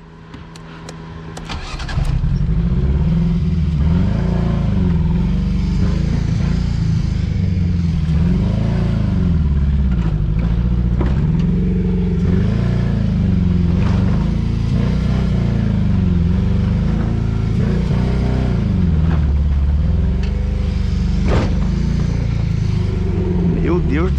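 A Kaiola car with a newly replaced fuel pump revs hard and steadily as it struggles to climb a dirt slope, the loud engine surging and dipping in pitch throughout, close by with a voice talking over it.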